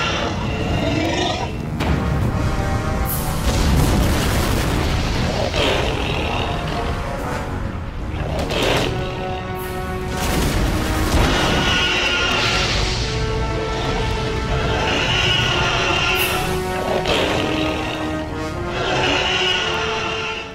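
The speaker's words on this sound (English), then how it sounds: "Zarkor the Invader bursts forth from a mountain and starts wrecking shit" A giant monster, Zarkor the Invader, bursts out of a mountain and smashes its surroundings in a 1996 sci-fi film, with loud, continuous roars and growls layered over heavy crashing destruction effects.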